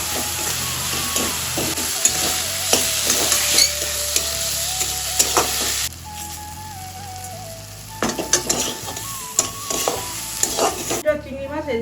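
Prawns fry in hot oil with a steady sizzle and crackle, broken by clattering stirs and utensil scrapes, close and fairly loud, with background music playing throughout.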